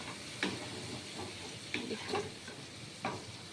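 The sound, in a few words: frying in a pan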